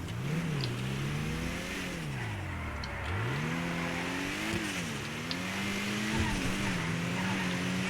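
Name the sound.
Zion Classic sports car accelerating, video game GTA 5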